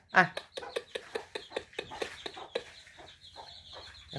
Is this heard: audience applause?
no